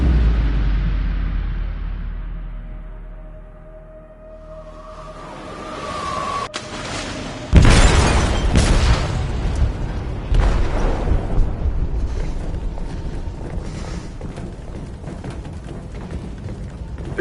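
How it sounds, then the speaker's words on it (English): A large explosion in a ship's hold in a video game: quiet rumble at first, then a sharp, loud blast followed by sustained roaring, crackling debris and heavy low rumble that stays loud to the end. "They detonated an explosive in the hold."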